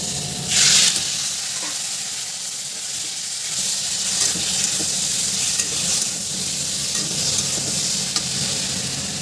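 Spice paste fries in a hot pan while being stirred, making a loud, continuous sizzle with hissing and occasional scraping of the spoon, close by and without any talking.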